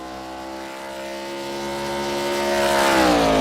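Race car engine in an ARCA stock car racing game at Talladega, number 4 car, pulling out of the pits with a steady harmonic drone that rises in pitch and grows louder as it accelerates, no talk over it.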